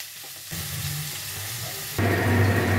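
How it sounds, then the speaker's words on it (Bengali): Onions frying in a pan for paneer makhni: a steady crackling sizzle that grows louder partway through, as if more onion hits the hot oil, with no talking. "পেঁয়াজগুলো আমি ভেজে নেব"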